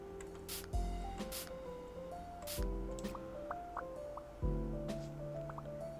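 In the video game House Flipper 2, a spray tool is used on cobwebs, giving three bursts of wet, squishy spraying over a soft background music bed.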